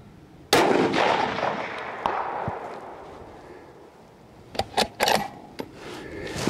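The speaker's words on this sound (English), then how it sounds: "That's three shots right on top of each other at 400" Rifle shots from an Aero Precision Solus 6GT firing Hornady 6 GT ammunition at a 400-yard steel plate: one loud, sharp crack early on, then a cluster of quicker sharp reports later, with no talking.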